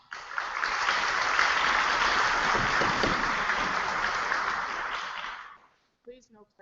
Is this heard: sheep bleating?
no